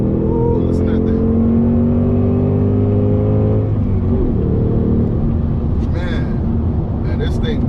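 Ford Mustang GT S650 engine, a deep throaty rumble rising and holding in a strong rev, then settling into a lower drone, close and loud, with a person talking over it.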